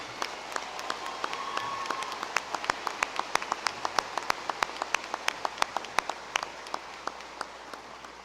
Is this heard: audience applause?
yes